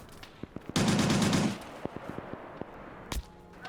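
Automatic gunfire and bullet impacts in Arma 3, set in a 1939 Winter War battle: a dense, loud burst of rapid shots, then scattered sharp single cracks and thuds, with one more heavy blast near the end.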